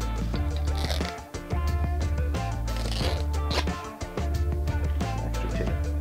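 Hockey tape being pulled off the blade of a stick from the heel downward, giving a continuous close ripping crackle with brief pauses as the strip is pulled.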